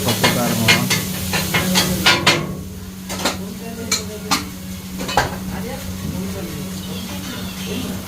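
Kothu parotta chopped with metal blades on a hot griddle at a small shop in Jaffna, sharp rapid metallic clanks in bursts over a steady sizzle, with people talking nearby.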